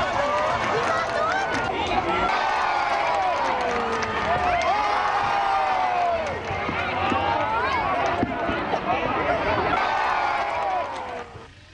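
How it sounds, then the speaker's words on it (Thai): Tourists waiting on the Mekong bank at Tha Muang, Nong Khai, for the Naga fireballs let out a sustained roar of cheering and shouting, a loud crowd filling the whole stretch. "ได้เรียกเสียงเฮจากนักท่องเที่ยวที่มารอชมกันอย่างกึกก้องค่ะ"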